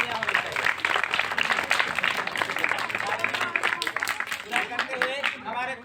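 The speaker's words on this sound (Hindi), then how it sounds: "इनके लिए जोरदार तालियां होनी चाहिए" Schoolchildren and guests clapping loudly for a quiz contestant at a primary school contest in Mahasamund, Chhattisgarh. The sustained, dense clapping runs under voices and crowd noise.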